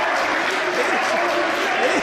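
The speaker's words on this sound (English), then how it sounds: "the crowd is loving it" A wrestling crowd at an indoor show applauds and cheers in a dense, continuous roar, with a commentator speaking over it.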